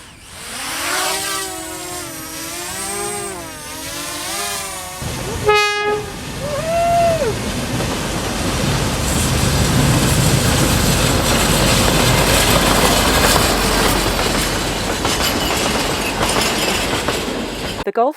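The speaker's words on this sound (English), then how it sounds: "The Gulflander is a 1950s locomotive and 2 carriages retracing the tracks of the old trains" A 1950s Gulflander locomotive hauling two carriages sounds a long wavering horn, then a sharp clank before rumbling steadily along the outback rails with rising wheel noise, fairly close and loud.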